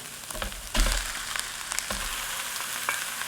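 Garlic fries in a pan with a steady close sizzle, broken by a few stirring knocks and scrapes, and no talking over it.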